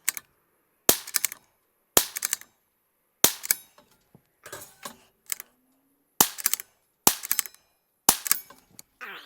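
Gunshots from a Rim-X rimfire conversion during a reliability test crack out in sharp bursts, mostly quick pairs and clusters with short gaps, loud and close against an otherwise quiet background.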